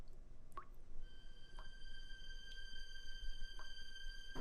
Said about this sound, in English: The dripping sound echoed inside of him.